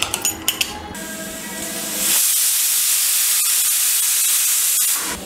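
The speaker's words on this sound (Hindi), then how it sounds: "इसको दो सीटी मीडियम फ्लेम पर हम लगा देंगे कुकर में" A few quick taps, then a loud, sustained hiss of escaping steam rushes for several seconds before cutting off, as a pressure cooker whistles over a medium flame while cooking raw banana.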